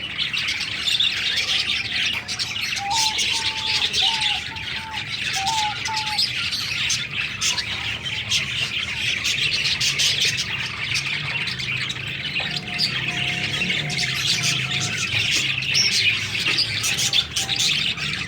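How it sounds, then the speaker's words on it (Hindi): Pet parrots chirp and squawk in short bursts across an outdoor aviary on a cool breezy day, over a steady bed of hissy ambient noise. "तोते बराबर खुश हो रहे हैं"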